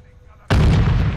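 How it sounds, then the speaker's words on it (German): A grenade going off in Call of Duty: Modern Warfare 2, a sudden loud booming blast after a quiet lead-in that hits hard and then rumbles on, close and dominant until the end. "Scheiße, Granate!"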